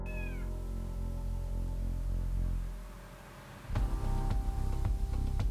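A domestic cat meows a few times while being stroked, close and clear over a steady low hum, with a brief quieter pause before a busier stretch of rustling and soft meows near the end.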